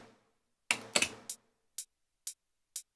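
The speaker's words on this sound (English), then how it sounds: "So that's just a standard offbeat hi-hat" Standard offbeat hi-hat panned to the left channel, a few short crisp ticks in a steady pattern after a couple of louder hits, dry and quiet with nothing else playing.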